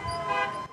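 Car horns honk steadily during a community protest in East Palestine, a sustained tonal blare close by with a faint rise and fall, lasting under a second.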